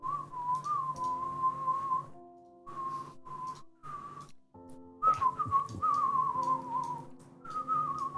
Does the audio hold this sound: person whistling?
yes